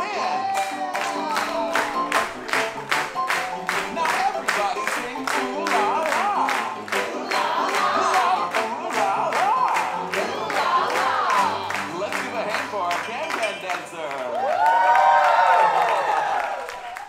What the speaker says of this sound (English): buddy, clap your hands.